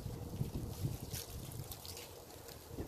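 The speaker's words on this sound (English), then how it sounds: "It's pretty windy here." Steady wind roars and buffets against the microphone, a continuous rumbling gust with no pauses and no voices.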